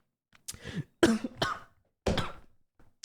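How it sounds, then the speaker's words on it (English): A person coughs several times in quick, harsh bursts, close up, with brief pauses between them. "I coughed"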